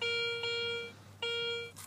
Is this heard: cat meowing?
no